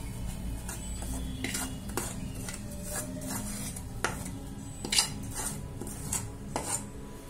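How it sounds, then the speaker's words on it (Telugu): Soft Mysore pak is scraped out of a cooking pan onto a plate, giving repeated metallic scrapes and clinks of utensil on pan at an uneven pace over a faint background hum, with no voices. "మైసూర్పాకు ప్లేట్లోకి తీసుకోవాలి."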